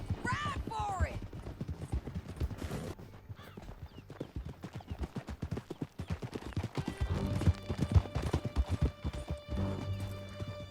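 Horse galloping in Red Dead Redemption II, a fast steady clip-clop of hooves throughout, with a whinny near the start and voices talking over it.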